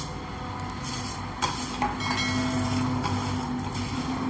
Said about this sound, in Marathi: मस्त याचा वास सुटेपर्यंत फक्त भाजून घ्यायचं आहे, 1 ते 2 मिनटं। आता ही तीळ पण टाकूया।